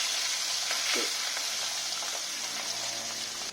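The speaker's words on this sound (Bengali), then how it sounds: "মাছটা হোক ততক্ষণ, ভাজা হোক আর কি।" Pabda fish frying in a pan of hot oil in a home kitchen, a continuous close, dense sizzle and crackle with no talking.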